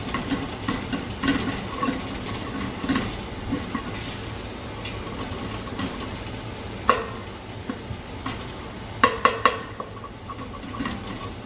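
Stew base is stirred and scraped in a pot, a steady low sizzle and soft scraping with a few sharp metallic clicks of the spoon against the pot near the end.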